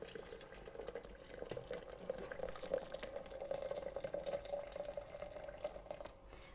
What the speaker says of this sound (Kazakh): үстіне ыстық су құйып қоямыз